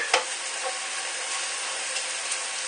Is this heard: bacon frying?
yes